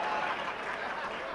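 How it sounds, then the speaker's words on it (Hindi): Applause from an audience at a kavi sammelan poetry gathering in Ludhiana, a steady moderate wash of clapping with no break. "ये एक ताली बजी है"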